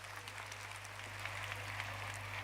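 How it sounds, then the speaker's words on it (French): An audience at a Beninese comedy night applauds, soft continuous clapping heard at low level over a steady electrical hum. "applaudissez très fort pour vous-même"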